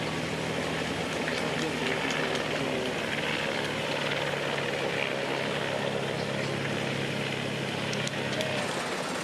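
Helicopter filming a stage of the Giro d'Italia bike race, a steady rotor and engine drone heard continuously at moderate volume.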